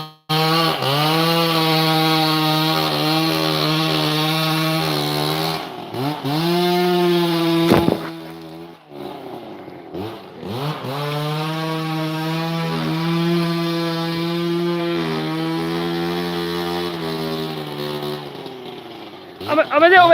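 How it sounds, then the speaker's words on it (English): A chainsaw runs while felling palm trees in the jungle, its engine a steady buzzing drone that dips and rises in pitch a few times as the cut goes on, with voices talking over it. "got a chainsaw"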